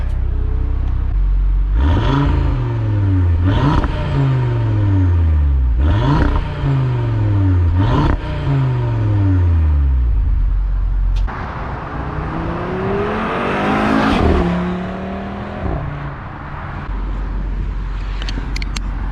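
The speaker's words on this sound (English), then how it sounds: "some exhaust clips of what the exhaust sounds like" Close, loud exhaust of a 2024 Audi RS3 revving repeatedly in rising bursts, then a longer rev climbing through the gears with a deep rumble, no talking.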